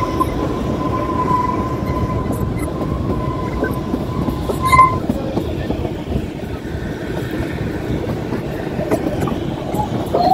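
Kalka–Shimla toy train, a UNESCO heritage mountain railway in Himachal, heard running steadily with a dense low rumble and wheel clatter throughout, a faint squeal or whistle early on, no talk.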